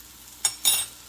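Salt being stirred into shredded sweet potato and raw chicken in a hot skillet, two short scraping, sizzling stirs against a quiet background hiss.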